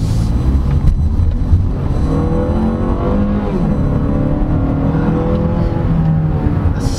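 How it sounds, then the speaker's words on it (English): Engine of a 2023 Mazda CX-8 AWD crossover revving as the throttle is lightly tapped, a steady loud drone with rising and falling pitch sweeps throughout, heard close with no talking. "Look at that, I'm just tapping the throttle,"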